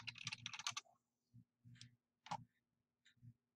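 Clicky keystrokes on a computer keyboard, a quick burst of rapid typing followed by scattered single key presses and short pauses, close and quiet.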